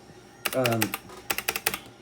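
Keys clatter on a Black Shark gaming keyboard, a quick burst of clicks followed by a run of about eight distinct, evenly spaced keystrokes, close and crisp, with a voice briefly heard near the start.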